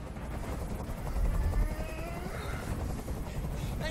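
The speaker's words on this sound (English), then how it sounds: "Tell that helicopter to get out of here." A steady low helicopter rotor drone fills the scene in Detroit: Become Human, dense and continuous, with faint mechanical whine above and a brief swell in loudness midway.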